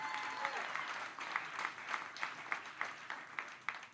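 Rhythmic clapping from an audience at an Ohio election rally, fairly faint and steady, with individual claps spaced across a few seconds.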